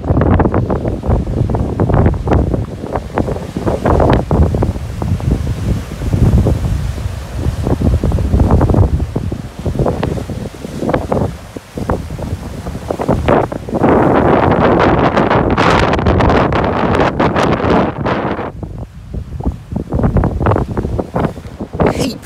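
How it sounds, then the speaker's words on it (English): Strong winter wind buffets the microphone at a beach in north-east Corfu, roaring loudly over rough, confused, lumpy seas that crash and churn throughout, with no speech. "Up, confused, lumpy seas where it channels in there."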